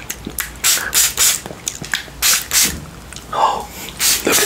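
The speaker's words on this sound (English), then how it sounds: "It's a monster spray." Short sprays of a blueberry Monster Spray candy, several quick hissy bursts in an irregular rhythm, close up and fairly loud, with soft breathy mouth sounds between them.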